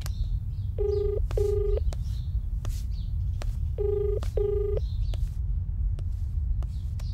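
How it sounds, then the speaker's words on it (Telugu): A telephone ringback tone sounds in two paired bursts a few seconds apart, clean and steady against a quiet low hum, with no talking, in a Telugu film scene. "అన్నా రింగ్ అవుతుంది"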